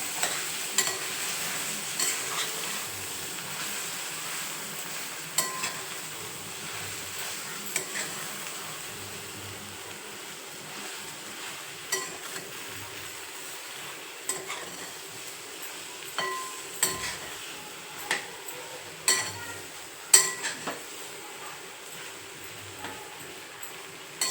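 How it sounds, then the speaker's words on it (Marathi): A raw tomato dish is stirred in a frying pan over steady low sizzling, with repeated scraping and clinking strokes of a spatula against the pan, close by and with no talk. "आता हे असं हलवून घ्यायचं"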